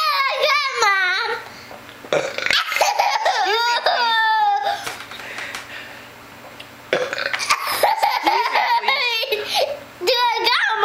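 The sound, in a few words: child burping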